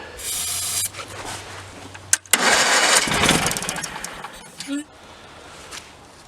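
An Onan B48M twin-cylinder engine on a Case Ingersoll garden tractor that had been cranking without starting cranks, catches and roars up loudly midway, then settles and fades, with a voice briefly heard around it.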